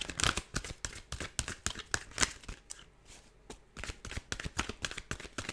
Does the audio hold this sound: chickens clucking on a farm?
no